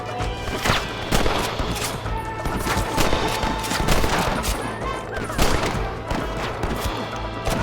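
Gunfire from the Red Dead video game comes as a rapid fusillade of loud, overlapping shots and booms, along with shouting voices and crashing impacts.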